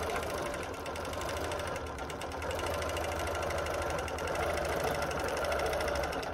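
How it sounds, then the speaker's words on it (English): Sewing machine stitching straight stripe lines on a quilt, a fast even mechanical whir with rapid needle ticking, steady and close throughout. "I'm just going to simply sew down."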